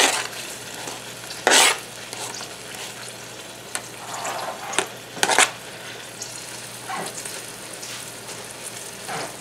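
Diced onion frying in a pan is stirred, with a steady sizzle broken by a few sharp scraping strokes near the start and middle, close and fairly loud with no voices.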